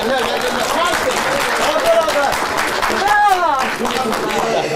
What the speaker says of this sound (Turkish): Bir alkış gelsin.